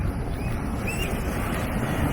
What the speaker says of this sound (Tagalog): So kung nakikita nyo, malakas yung alon at masarap maligo pero ang lakas ng alon.